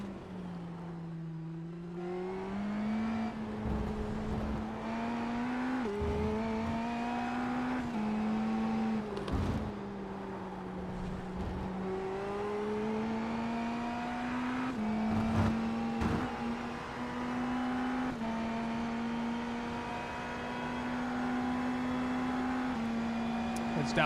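An Indy NXT race car's engine drones steadily through a qualifying lap at Indianapolis in iRacing, its pitch rising and dipping with upshifts and braking, while a commentator talks over it.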